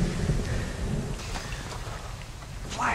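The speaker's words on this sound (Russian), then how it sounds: "Молния! Гром!" Thunder and lightning effect from a LEGO animated film about WW2 Normandy, a heavy, continuous low rumble with rain-like hiss over the full three seconds, swelling again at the end.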